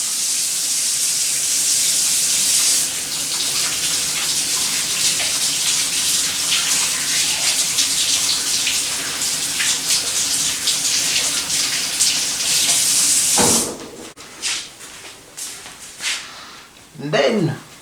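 Tap water runs while hands are washed before making pancakes: a steady, loud rushing stream lasting about thirteen seconds, then it cuts off, leaving a few scattered knocks and splashes.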